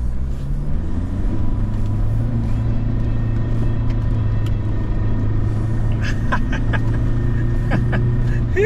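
A red Toyota Hilux on a dirt off-road course: its engine rumbles steadily close by with a low, sustained drone, and some faint clicks and rattles come in toward the end.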